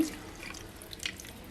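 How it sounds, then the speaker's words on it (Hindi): Quiet trickle of water poured into a jug, with faint drips and light splashing, soft and close, no voices. "इसमें जाएगा थोड़ा पानी"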